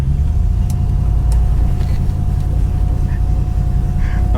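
A 1968 Ford Galaxie being driven gives a steady, loud low engine rumble with continuous road noise throughout, close and constant.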